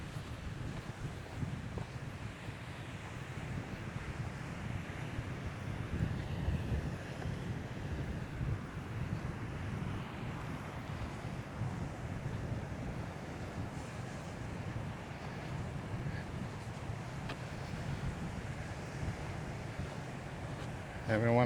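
Strong gusting wind buffets the microphone on a coastal hill walk above Baby Beach toward Seroe Colorado, a steady low roar with surf in the background running unbroken throughout, no talk heard.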